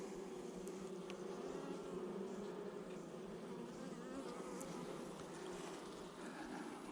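Honeybees buzz around an open, struggling hive during a frame-by-frame inspection. The hum is a continuous, even swarm drone, soft but steady throughout, with no voices over it.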